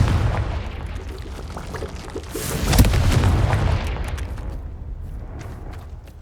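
A Confringo blasting spell in Hogwarts Legacy goes off as one loud, booming explosion that swells and then rumbles away over several seconds into a fading crackle.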